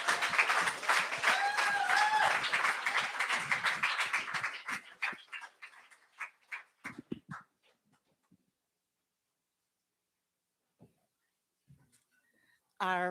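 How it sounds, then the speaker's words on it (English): Audience applause at a talk, steady clapping with a few whoops that thins out into scattered individual claps and then silence, ending with a brief voice. "another round of applause"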